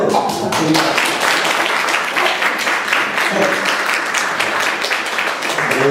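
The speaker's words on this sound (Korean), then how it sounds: "박수" A church congregation gives loud sustained applause after a praise performance, many hands clapping in a dense continuous patter close by, with light voices mixed in.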